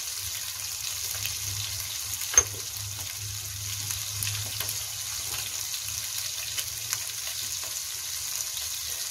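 Chicken medallions searing in a frying pan produce a continuous, even sizzle, with one sharp click early on and faint crackles throughout. No voices are heard.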